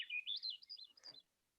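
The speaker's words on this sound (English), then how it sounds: "That's the Swainson thrush, and she's singing her heart out" A Swainson's thrush sings on Sidney Island, a clear rising spiral of bright fluting notes lasting about a second, followed by a short lower burry phrase, then quiet.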